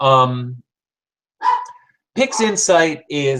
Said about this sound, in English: and I'm sorry for my dog barking,